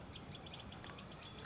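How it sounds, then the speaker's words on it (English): Several birds call from a tree in short, faint, high chirps that repeat irregularly over a soft background hiss, with no voices. "These birds, I'm not sure what they are called, but they're pretty fascinating."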